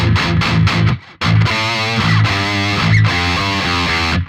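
Heavily distorted high-gain electric guitar chords through a BOSS GT-1000CORE ring out loud and saturated, with a brief gap before a sustained, fuzzy passage.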